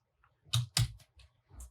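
Short typing on a computer keyboard while entering code in a Jetpack Compose Android tutorial: a few crisp, separate key clicks at close range, with pauses between them and no speech.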